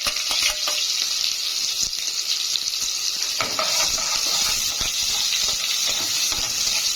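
Onion frying in a spoonful of oil as a base for a beans dish, giving a steady, loud, dense sizzle with faint crackles throughout and no voices.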